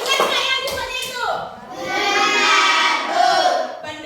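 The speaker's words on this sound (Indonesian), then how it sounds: "tepuk tangan untuk Darius" Children in a classroom cheer and clap for a classmate named Darius, a lively burst of young voices and hand claps that swells and falls over about four seconds.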